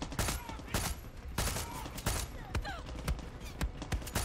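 Gunfire in the Far Cry 6 shooter game: a quick run of sharp, close shots at an uneven rhythm, several cracks in a few seconds, with bits of other game noise between them.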